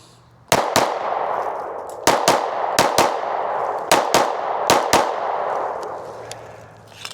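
A Sig P365 Macro Comp pistol fired in quick pairs, about ten sharp cracks with short ringing tails spread over several seconds, loud and close, no voices.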